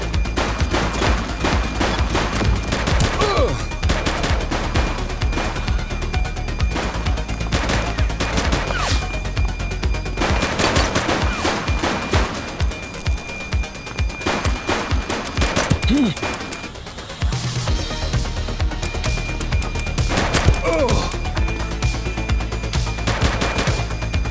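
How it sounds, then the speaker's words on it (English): Gunfire in The Precinct police game crackles in loud, repeated volleys and rapid shots, with sirens and shouting voices over a constant backdrop. "He's shooting!"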